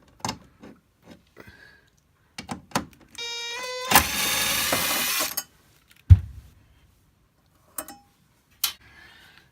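A power driver whirs briefly on screws holding the chassis of a Boondocker 1260 HW RV converter, a steady motor whine bracketed by clicks, taps and small clanks of handled parts, close and otherwise quiet.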